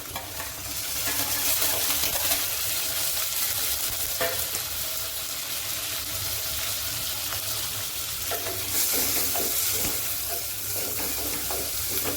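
Onion frying in ghee with cumin seeds for dal makhani, a steady broadband sizzle with occasional stirring scrapes, close and continuous throughout.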